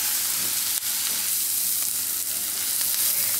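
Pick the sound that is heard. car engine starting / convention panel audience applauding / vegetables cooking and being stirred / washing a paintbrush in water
vegetables cooking and being stirred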